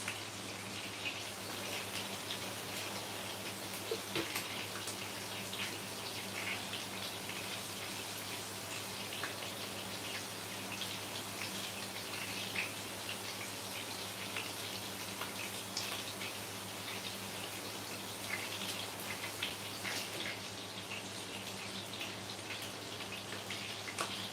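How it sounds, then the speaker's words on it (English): Running tap water pours steadily as hands are washed, a constant close splashing hiss that lasts throughout without speech. "let me wash my hands."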